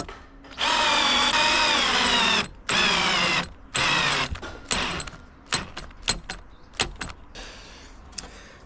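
A cordless drill drives screws into the wood of a firewood shelter in several long, loud whirring runs, then gives shorter bursts and clicks as each screw seats, close by.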